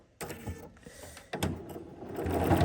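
A sewing machine fitted with freehand embroidery foot #24 stitches in short bursts, its whirring motor starting, pausing and speeding up again, with a low mechanical hum that builds toward the end.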